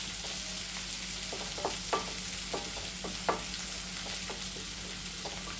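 Small onions frying lightly in a pan for a roasted brinjal chutney, a steady low sizzle with several soft, brief spatula scrapes and stirs spread across it, close and fairly quiet, no talk.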